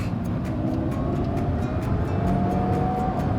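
A Lamborghini Revuelto's engine runs steadily in heavy city-centre traffic, a continuous low rumble from inside the car with faint periodic ticks above it.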